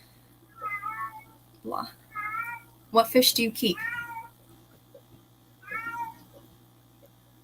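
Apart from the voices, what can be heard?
cat meowing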